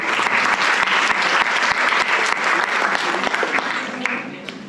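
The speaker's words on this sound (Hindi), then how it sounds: "इसके लिए मैं जोरदार तालियों से सबका स्वागत करती हूँ" An audience at a heritage festival lecture on Vedic culture claps loudly to welcome the speaker, a thick steady wash of applause that thins and fades slightly toward the end.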